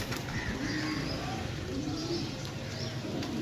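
A pigeon, one of a batch of twenty-one birds for sale in Sarai Alamgir, gives soft, low cooing phrases that repeat close by over a steady background hum.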